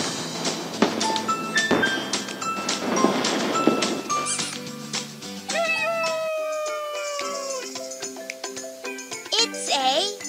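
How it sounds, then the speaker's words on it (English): Cartoon cat meows in a children's animal jigsaw puzzle game, clear mewing calls over bright jingling game music and cheerful chimes, with a child-like voice speaking near the start. "It's a cat!"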